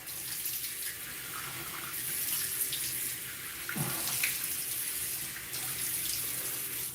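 Tap water running steadily into a sink to wet the face before shaving, a continuous close splashing flow for several seconds with a brief change in the stream midway.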